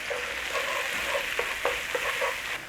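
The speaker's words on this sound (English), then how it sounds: "And then we're going to fry the mushrooms" Garlic, onions and mushrooms frying in butter in a pan, a steady close sizzle with occasional soft stirring clicks and pops over the hiss.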